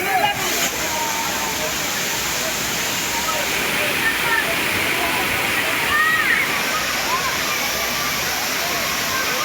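Thirparappu waterfall, a popular tourist falls in Kanyakumari district, roars as a steady broadband rush of falling water, continuous and fairly loud throughout, with faint crowd voices mixed into the background.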